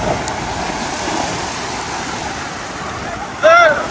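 Ocean waves at Cox's Bazar beach wash in as a steady surf roar mixed with wind buffeting the microphone, with a brief voice rising near the end.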